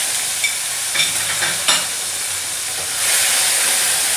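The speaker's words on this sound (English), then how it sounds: "Once it starts spluttering, we are adding the tomatoes" Chopped tomato dropped into spluttering hot oil, a loud close hiss and crackle with a few stirring scrapes early on, then the sizzle swells and steadies.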